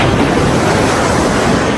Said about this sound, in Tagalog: Dito na tayo sa dagat.